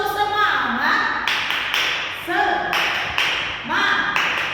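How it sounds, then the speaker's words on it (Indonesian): Rhythmic group clapping in a classroom, a tepuk semangat spirit clap done with children: a run of sharp hand claps in bursts, with chanting voices and some talk mixed in. "Tepuk semangat."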